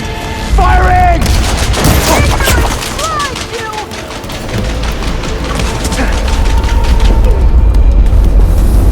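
Loud, sustained gunfire and booming blasts in Horizon Forbidden West, a dense barrage that runs almost without pause, with whistling projectile sounds mixed in.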